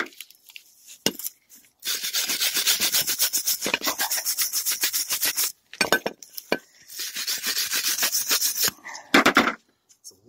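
A screwdriver scraping across a car brake pad surface, producing close, rhythmic rasping strokes in two long runs with brief pauses and a few sharp clicks between them.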